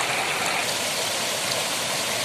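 Water rushes forcefully along a stream in a green rural spot, making a loud, dense, continuous hiss and roar close by, steady throughout with no voices.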